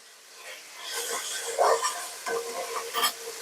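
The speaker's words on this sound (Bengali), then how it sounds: "এই যে চুলায় যে একটা শব্দ হচ্ছে না, যে সুন্দর মশলাটা ফোটার একটা সাউন্ড" Garlic paste with a little ginger sizzles and crackles in a pan on a stove, bright and steady, with a few stirring scrapes and a louder hiss midway.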